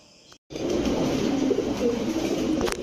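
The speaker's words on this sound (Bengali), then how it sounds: "এই কবুতরটা হচ্ছে দীপজল ভাইয়ের কবুতর" Pigeons, including Pankhi, Shahranpuri and Teddy breeds at a pigeon farm, coo steadily and closely in a continuous throaty murmur after a short quiet start.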